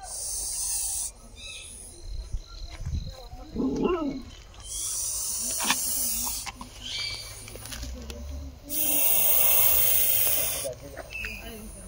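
Snake hissing in bursts outdoors near houses, with loud sustained hisses alternating with pauses, while people talk and move about close by.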